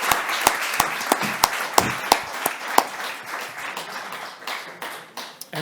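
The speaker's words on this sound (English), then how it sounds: "a round of applause for the" An audience at a Brussels workshop applauds the panelists, with sharp, spaced claps that start sparse and then thicken into a short, moderate round of clapping before fading out.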